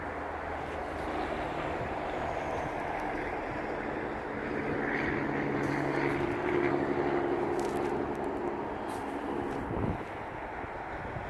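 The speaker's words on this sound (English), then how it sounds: "Oh, a couple of planes up there." A broad, steady roar of a couple of airplanes passing overhead at a distance, swelling slightly midway, heard outdoors on the Kalamazoo River Valley Trail with a constant rushing background.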